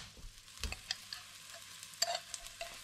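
Onions and garlic sweating in a pan for coconut and crab linguine, with soft stirring scrapes and faint light clicks over a quiet low sizzle.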